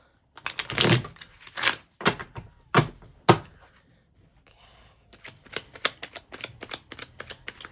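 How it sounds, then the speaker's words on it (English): Tarot cards riffle and snap in several quick bursts, a brief pause, then a longer run of rapid shuffling close by. "we're just going to shuffle one more time"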